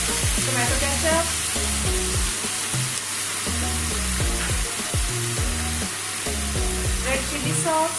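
Sauces for restaurant-style chilli chicken, with red chilli powder, soy sauce and tomato ketchup, sizzle in a hot pan as they are stirred together, a continuous close frying hiss under a tonal background melody.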